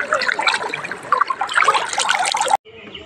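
Strong current of flowing water rushing steadily at an eco park picnic spot, a broad close wash of splashing and gurgling that cuts off abruptly near the end.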